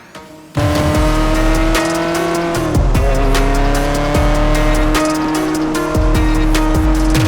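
Ferrari 360 Modena driven on the road: after a quiet start the engine bursts to a loud, close roar, rising through revs with gear changes and tonal whine, sustained to the end with no talk.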